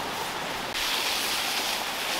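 Water flowing at a rural spring, a steady airy rushing wash that continues evenly throughout, moderately loud and close, with no talking.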